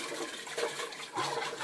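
A mix of alcohol and hot water swishing around inside a hookah base, a steady sloshing, gurgling liquid sound with two fuller surges, close and alone.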